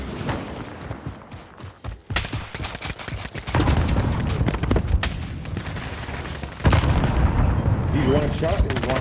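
Gunfire in a shooter video game: loud, irregular volleys of shots and booms that build into denser bursts, mixed with other game noise.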